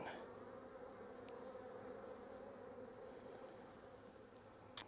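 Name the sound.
honeybees buzzing around an open hive frame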